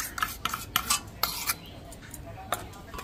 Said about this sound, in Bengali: ভালো করে মিশিয়ে নেব দুধের সাথে দইটা।